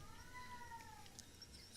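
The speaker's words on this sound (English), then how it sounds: "That's the cat singing the song of her people." One prolonged meow from a cat, slightly falling in pitch, followed by a brief faint chirp, with no talk over it.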